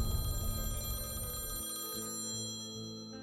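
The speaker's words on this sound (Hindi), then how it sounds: "फोन की घंटी बजी।" A telephone ringing with bright, sustained bell-like tones, fairly quiet and alone, the ring cutting off partway and continuing more faintly.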